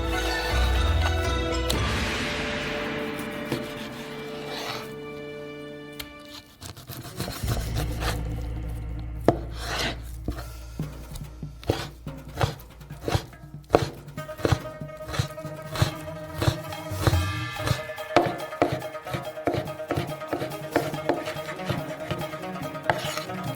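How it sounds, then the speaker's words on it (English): A knife chops through pork belly on a cutting board, first with some rubbing and scraping, then a long run of sharp, rapid, evenly spaced knocks close up with no talking. "Pork belly. We're gonna cut it to the exact same principle."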